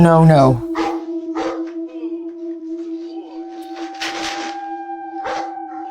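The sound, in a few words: dog barking and howling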